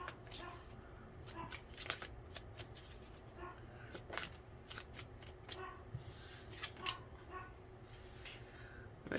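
Tarot cards are shuffled close up in a quiet room, a run of soft riffling bursts and snaps repeating every second or so, with no talk over them.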